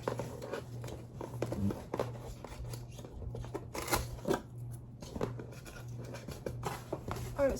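Scissors snip steadily through paper or material, a close, continuous run of small crisp cuts with a faint background hum and no talking.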